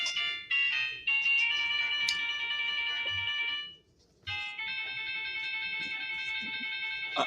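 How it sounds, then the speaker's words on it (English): A cell phone ringtone plays, a bright electronic melody repeating in bursts with a short pause between rings, moderately loud over faint room noise. "That's my cell phone this time."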